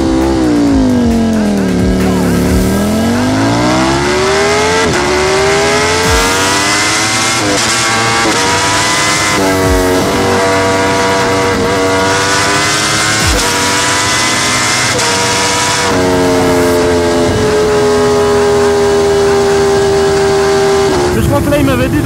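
A Ducati Panigale V4 SP motorcycle screams at full throttle on an autobahn, its engine note climbing steeply through several gears with brief dips at each shift, loud and continuous over heavy wind roar.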